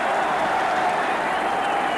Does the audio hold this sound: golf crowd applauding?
yes